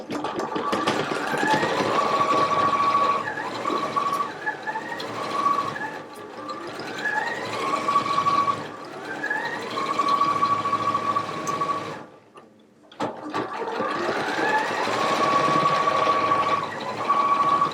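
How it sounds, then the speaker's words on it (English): A sewing machine runs a half-inch seam up a Nyla jacket sleeve, stitching loudly and steadily in long runs, with brief slowdowns for reinforcing the ends and one short pause before it resumes. "So I'm going to go ahead and sew up one of my sleeves"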